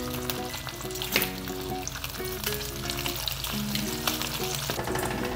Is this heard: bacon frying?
yes